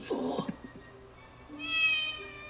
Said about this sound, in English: This cat, I know you want your breakfast